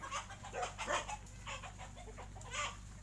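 Farm chickens cluck and squawk in short, close bursts over a steady low background hum, with several birds calling in irregular succession and no talking.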